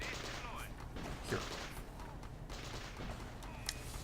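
Defensive cannons fire in a strategy video game, with several quick, sharp gunfire-like reports scattered across a few seconds under a steady game soundscape, while a voice briefly speaks.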